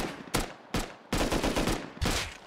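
Loud shotgun blasts in the Rust video game, four heavy booming shots at irregular intervals with a dense rattle of fire in between, close and with no talk over them.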